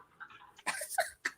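A dog whimpers in short, soft whines, then breathes and pants in quick bursts close by, with no talk over it.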